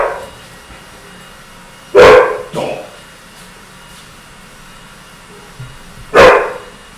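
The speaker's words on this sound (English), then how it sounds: "so now my dogs are barking" Household dogs bark indoors in two loud, sharp bursts, the first a double bark and the second a single one, several seconds apart, with a quiet room in between.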